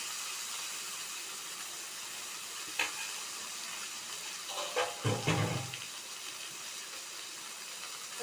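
Fish coated in masala shallow-frying in hot oil, a steady close sizzle and hiss running throughout, with brief louder crackles and spatters partway through.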